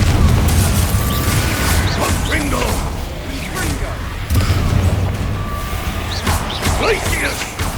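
Fiery spell blasts in Hogwarts Legacy, a booming burst amid constant mechanical rumble and clatter. A couple of heavier hits land near the start and again around the middle, and a voice shouts over the din.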